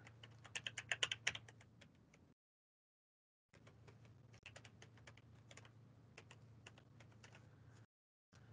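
Quick bursts of keystrokes on a computer keyboard, clicking close and quietly in uneven runs separated by short silent pauses.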